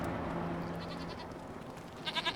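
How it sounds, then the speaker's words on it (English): Baby goats bleating in the video game Farming Simulator 25, a faint bleat early on followed by a cluster of short, louder bleats near the end over soft farm ambience. "you can see we've also got some baby goats."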